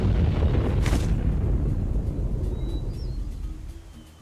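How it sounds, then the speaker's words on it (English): A deep rumbling boom from a video game explosion rolls out and slowly decays, low and heavy, with a short sharp crack early on and faint chirps as it fades. "That was quite the explosion."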